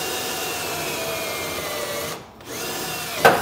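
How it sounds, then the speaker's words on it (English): A power drill with a 5/16 bit bores a hole into the underside of a truck frame while fitting Air Lift LoadLifter 5000 rear air helper springs, a steady close whine running about two seconds before a brief pause and a short restart. "And now we can come back with a 5/16 drill bit and drill a hole into the bottom of our frame."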